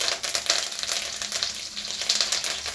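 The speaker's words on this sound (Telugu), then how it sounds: "తాలింపు గింజలన్నీ వేగాక మనము కరివేపాకు వేసుకుందాం." Curry leaves hit hot tempering oil with seasoning seeds for rice-flour upma, giving a loud, crackling sizzle that pops continuously and stays close for under three seconds.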